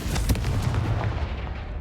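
A Confringo blasting spell explosion in the video game Hogwarts Legacy, a single loud, close boom with a crackling burst that rolls off into a fading rumble.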